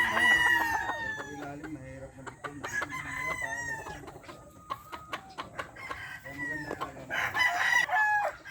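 Several Gilmore bloodline gamefowl roosters, straight comb, crowing in overlapping calls with clucking between, some close and loud, others farther off, with faint talk in the background.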